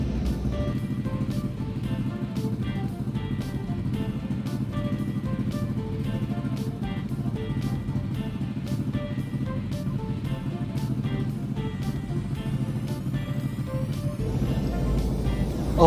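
A motorcycle engine idles steadily after an oil change, a continuous low rumble with a regular rapid ticking throb, heard close and unchanging for the whole stretch.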